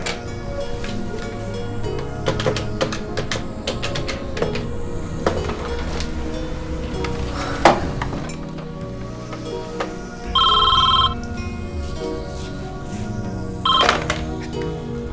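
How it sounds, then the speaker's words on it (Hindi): A telephone is dialed, with clicking and clattering handling sounds, then rings in two short, loud electronic bursts, with no talking. "जरा महमूद से टेलीफोन मिलाना।"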